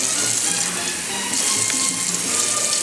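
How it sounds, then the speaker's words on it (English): Tap water runs steadily from a faucet into a small moka pot being filled for a single serving of Cuban-style coffee, a close, continuous splashing rush with no talk. "I'm going to fill it up with water just to the center of this valve here."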